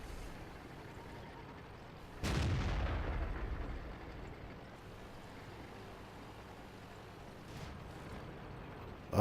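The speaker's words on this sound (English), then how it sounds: "I think that is artillery. That's artillery fire coming in." Incoming artillery fire in the World of Tanks video game lands as one loud, booming impact that rumbles and fades over a couple of seconds, with a fainter second blast later amid steady background game noise.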